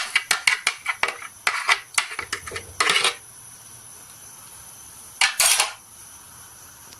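A utensil clinks and scrapes against a frying pan and jar while ground tomato for homemade chili garlic ketchup is transferred, as a quick series of close metallic taps, then a pause, then one more burst of scraping.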